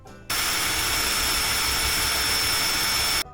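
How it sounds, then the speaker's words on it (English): A wire wheel grinding over a deer skull cap to clear the last bits of tissue, a loud, steady whirring drone that starts abruptly and holds evenly for about three seconds before cutting off. "I'm bringing it back out here to go over it one last time with the wire wheel to get these last few bits"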